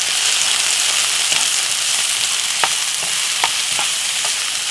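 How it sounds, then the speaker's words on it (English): Red and green peppers with vegetables frying in a pan, a constant loud sizzle with a few sharp crackles and pops as they are stirred, no voices. "Give it a stir."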